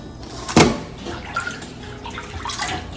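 Mustard and collard greens being washed in water, with a loud splash near the start followed by softer sloshing and dripping at close range.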